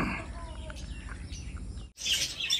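Birds call and chirp in a village at morning while pigeons are out flying, with faint scattered tweets over a low background hum and a brief louder, brighter burst of sound near the end.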